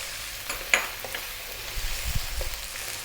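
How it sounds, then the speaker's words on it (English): Fresh chili dropped into a hot pan for spicy lamb masala, with garlic ginger paste already in, giving a steady moderate sizzle and frying hiss, a sharp clink near the start and soft stirring scrapes later, no talking. "We're going to add our fresh chili now."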